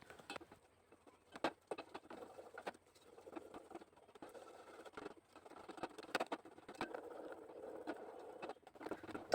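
A spoon scrapes and taps repeatedly against a pan as sugar is stirred over low heat while melting into caramel for honeycomb candy, making an irregular, close patter of small clicks.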